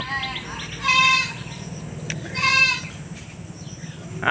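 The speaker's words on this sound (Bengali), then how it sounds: "এইটা হচ্ছে ওদের ছাগল যে বাড়িতে বিক্রি করছি" A castrated male goat at a village home bleats twice, loud and close, each call a wavering nasal cry, with birds and faint ambient noise between.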